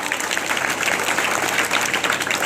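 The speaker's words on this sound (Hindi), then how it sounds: "एक बार तालियां सर के लिए जोरदार" Steady, dense applause from a crowd at a primary school event welcoming a guest, clapping continuously at an even level for a couple of seconds.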